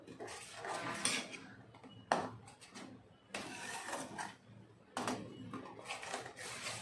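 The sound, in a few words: stirring coconut milk khova in a pan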